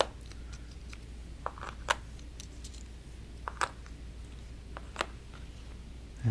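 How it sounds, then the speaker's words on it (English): Cardboard cup effect tokens for the Coffee Roaster board game being shuffled on a table, with soft scattered clicks and scrapes and a few sharper taps, close and quiet. "So we need to shuffle these."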